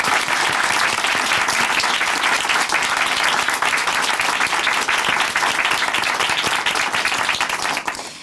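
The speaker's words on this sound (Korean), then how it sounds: "박수로 응원해 드리겠습니다." Audience applause at a Korean church testimony program, a loud, dense, sustained wash of many hands clapping that runs steadily for several seconds before tapering off at the end.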